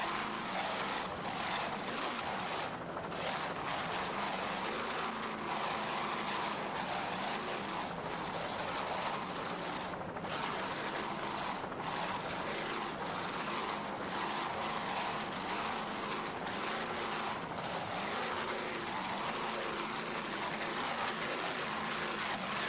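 A racing powerboat with four 1,000 horsepower Cobra Power inboard engines roars across bumpy water off Key West, a steady, dense engine drone holding throughout.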